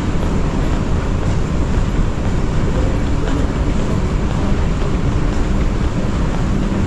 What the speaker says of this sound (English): I heard that they have two metro systems, the airport metro system and the Taipei metro system.